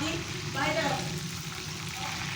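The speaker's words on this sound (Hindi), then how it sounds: "चिकन पकौड़ा तकरीबन मसाला फ्राई हो चुका है" Chicken pakora frying in masala gives off a steady, close sizzle that runs unbroken throughout.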